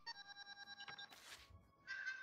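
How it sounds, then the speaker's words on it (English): A phone rings with a repeating electronic ringtone in a quiet room, its steady pulses briefly broken by a rustling clatter before the tone resumes. "someone's phoning me"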